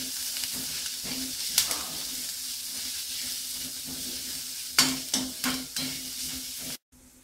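Grated coconut and onion sautéing in oil in a pan for Chettinad kuzhi paniyaram, a steady moderate sizzle with bursts of spoon-scraping clatter near the end before it cuts off.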